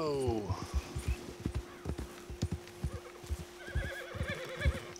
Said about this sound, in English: Calm down, horse.